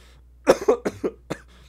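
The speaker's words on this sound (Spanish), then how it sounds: "Hasta me dio tos de la emoción" A person coughs in a quick burst of about five harsh coughs, close and fairly loud, with a final short cough after a brief pause. No one speaks.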